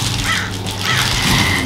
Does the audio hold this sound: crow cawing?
yes